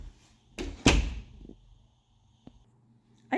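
Paneled closet door in an apartment swung shut, a close thump and rattling knock followed by a quieter settling clunk and faint clicks, no talking.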